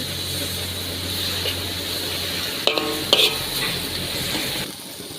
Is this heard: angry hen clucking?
no